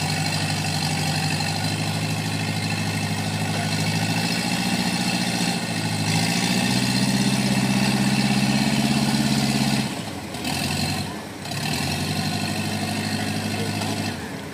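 A diesel Canter truck engine idles with a steady low rumble, rising slightly as if revving, then briefly dipping before settling back to idle.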